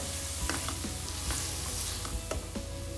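Okra masala sizzling in a pan as it is stirred, steady hiss of frying with sharp spoon scrapes and clicks, close and fairly loud, no speech.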